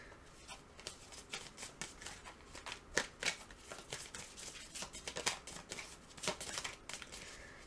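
Oracle cards are shuffled by hand in a quiet room, a close, soft run of irregular riffling flicks and slaps coming in quick uneven bursts.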